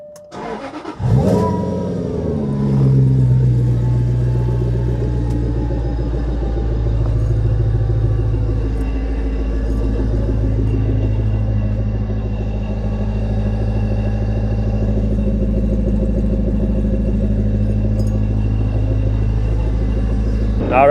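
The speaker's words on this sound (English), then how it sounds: "the exhaust sounds really good. It's got a nice deep tone to it." A supercharged Jaguar engine cranks and catches, then settles into a loud, deep exhaust rumble with a couple of swelling revs, heard close from inside the car.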